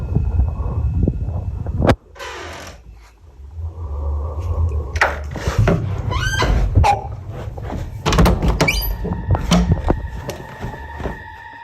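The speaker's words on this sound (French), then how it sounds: "la porte s'ouvre et s'arrête toute seule, avant de se refermer brusquement" A bedroom door creaks open in jerky, halting movements on its own, then bangs shut; a series of wooden knocks, scrapes and a loud thud, with a sharp impact near the start.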